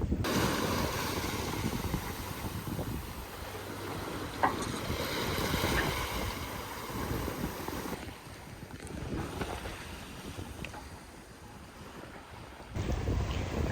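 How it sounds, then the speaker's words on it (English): Sailboat running downwind with the mainsail out near Vilamoura, steady rush of wind over the microphone and water washing along the hull, continuous and fairly loud. "with the wind behind us and the main away, we seem to have picked up a little bit of speed again"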